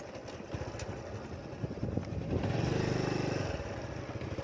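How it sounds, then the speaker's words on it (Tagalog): A motorcycle passes along a newly built rural road, its engine a low, fairly faint putter that swells for a few seconds in the middle and then fades under the open-air background. "Ay, may motor din, oh. Motor talaga, nakakadaan talaga yung motor dito."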